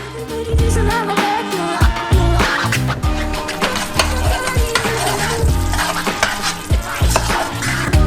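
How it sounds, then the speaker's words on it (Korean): Caramel boils in a pot on a stove while food coloring is stirred in, with bubbling, frying-like sizzle and scraping stirs partly buried under loud rhythmic music. "스토브 위에 올리고 147도까지 끓이고 색소도 섞어줘요"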